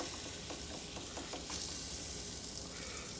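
Cold onions sizzle and fry steadily in a pan for French onion soup, with a continuous close crackle and occasional stirring scrapes, no voices.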